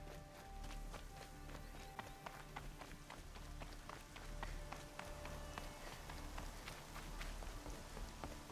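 Rain pattering in Horizon Zero Dawn, heard as a soft, steady hiss of drops with scattered sharp taps and what sound like light running footsteps, fairly faint throughout.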